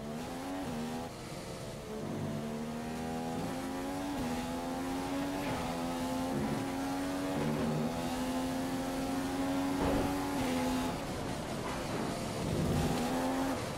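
A Formula 1 car in the F1 2015 racing game driving a qualifying lap with DRS open, a continuous high-revving engine whine that climbs steadily through the gears with brief dips at shifts, loud and alone.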